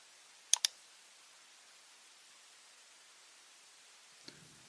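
Two quick, sharp computer mouse clicks close together near the start while working in RFEM 6 structural engineering software, followed by near silence and one faint click at the end.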